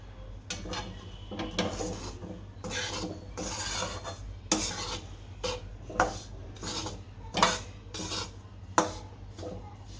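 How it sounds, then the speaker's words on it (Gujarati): Roasted semolina and grated coconut are stirred together in a pan for a suji-nariyal sweet. A utensil scrapes and rubs against the pan in close, repeated strokes, with sharper clinks now and then and no talking. "હવે આમાં ટોપરું નાખશું, આને ભેળવી નાખશું હારો।"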